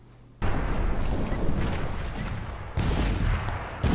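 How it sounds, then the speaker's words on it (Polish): A gunshot in the video game Crysis Warhead, a loud, sudden blast after near-silence followed by a sustained rumbling roar, then a second heavy burst near the end. "Jeżeli słyszałeś dźwięk wystrzału"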